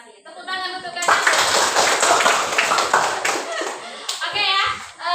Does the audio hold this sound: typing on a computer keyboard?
no